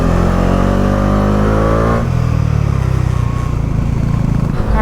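A Bajaj Dominar motorcycle labours uphill on a mountain road in Spiti, its engine loud and close. The steady drone drops in pitch partway through as the bike struggles for pickup.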